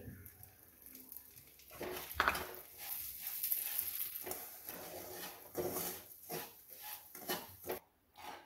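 Semolina roasting in ghee in a pan sizzles and crackles softly, with spatula scrapes and stirring taps breaking into the quiet, close frying hiss.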